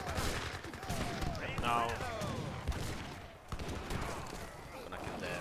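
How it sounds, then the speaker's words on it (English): Rapid bursts of Gatling gun fire from Age of Empires III, a Spanish versus USA 1v1 match, crackling in dense volleys alongside other battle noise, with a voice speaking briefly over it. "Snipe the Gatling guns here."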